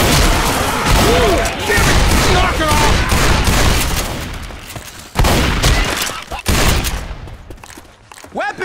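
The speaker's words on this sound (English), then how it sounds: "Watch where you're shooting." Loud, dense bursts of rapid gunfire and booms fill a chaotic video game firefight, continuous for most of the stretch before thinning into scattered shots near the end, with a voice calling out over the din.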